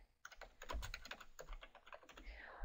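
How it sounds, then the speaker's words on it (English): Keys clatter in a quick, light burst on a computer keyboard as a short word is typed, the soft close clicks irregular and alone, with a faint mouse-like rustle at the end. "I'll type in apple picking."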